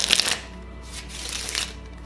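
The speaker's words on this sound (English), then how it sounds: "the couple of moves that we do recommend is the riffle shuffle," A deck of playing cards riffle shuffled during deck conditioning for cardistry, heard up close as a couple of quick fluttering bursts of cards interleaving, with no talking.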